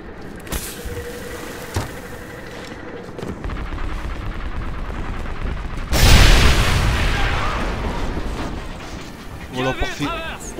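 In the video game Medal of Honor Airborne, a heavy explosion destroys an artillery cannon, a sudden loud boom halfway through that rumbles off, preceded by scattered gunfire and followed by sharp metallic clatter.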